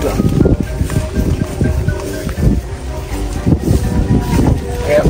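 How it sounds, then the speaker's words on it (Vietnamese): A strong north wind gusts and roars across an open field where a giant kite with whistles is flown ahead of a storm, buffeting the microphone loudly as voices talk underneath. "Này là gió thì kêu."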